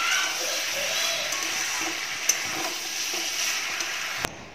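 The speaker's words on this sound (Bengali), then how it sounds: "এবার একটু ভাজা ভাজা করে নেব।" Boiled vegetables frying in a pan, a steady soft sizzle with occasional stirring scrapes and small clicks, close by and fairly quiet.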